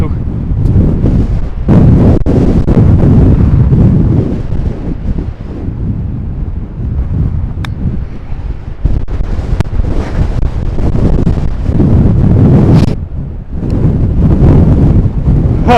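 Strong gusting wind buffets a phone microphone outdoors on a golf course during a windstorm, a loud, continuous roar that surges and drops throughout with a brief lull near the end.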